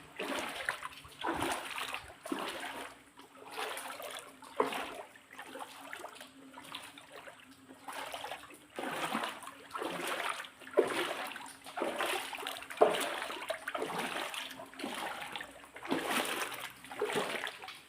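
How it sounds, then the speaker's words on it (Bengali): Floodwater splashing and sloshing at a rain-flooded construction site in Malaysia, a continuous churning wash with repeated surging splashes, fairly faint and steady throughout. "অনেকটা পানি হয়ে গেছে একবারে"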